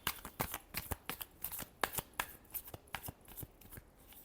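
Tarot cards riffle and slap in a quick, even rhythm of crisp flicks, close and fairly quiet, with no talking over the shuffle.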